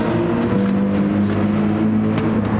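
A Porsche DTM race car in Gran Turismo 7 at the Nürburgring drones at high, steady revs, its loud engine tone holding throughout with slight pitch shifts and no voices.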